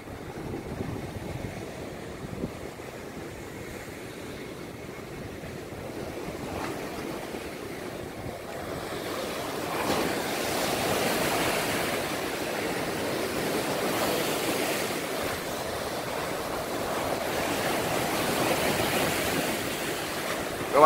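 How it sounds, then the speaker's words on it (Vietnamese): Steady roar of sea waves crashing and washing ashore at Quất Lâm beach, Nam Định, Vietnam, in light rain, a continuous broadband rush that swells louder in the second half, with no voices. "Nhưng sóng biển thì không hề yên,"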